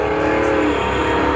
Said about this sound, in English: a Tracked Light Armored Vehicle